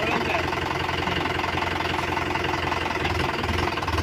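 A tractor engine idles steadily on a farm, a loud, close, continuous low knocking throb with an even rhythm and no pauses.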